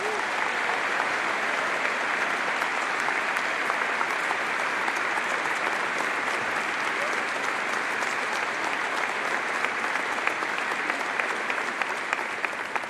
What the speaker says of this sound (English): I ask everyone here to join me in applauding you for participating